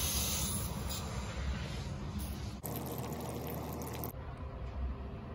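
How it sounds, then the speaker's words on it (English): Water drains from a residential water heater through a hose, a steady broadband rushing pour that runs continuously, with a denser, louder gush in the middle stretch before easing back to a constant flow. "Now you can hear the water flowing through it."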